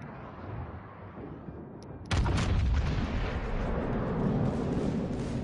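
Naval gunfire and shell explosions in the World of Warships battle game: a muffled rumble, then a sudden heavy boom at about two seconds that gives way to a sustained roaring, crackling barrage of blasts.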